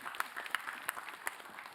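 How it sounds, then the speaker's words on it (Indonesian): An audience at an Islamic religious television program gives a short round of applause, scattered sharp claps over a soft, steady wash of hands, with no voices. "tepuk tangan dong buat Habib Muhammad"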